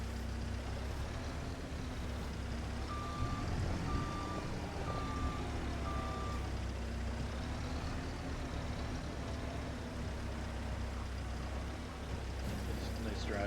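Steady engine drone of a vehicle driving in a farming video game, with a short series of reversing-style beeps partway through and a person talking over the continuous rumble.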